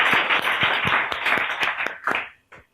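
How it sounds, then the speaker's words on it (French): Studio audience at a television show in Mali claps for a couple of seconds, a brisk patter of many hands that fades and ends with a few scattered final claps. "On applaudit pour ça déjà"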